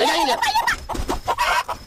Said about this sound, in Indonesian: Ayam siapa itu?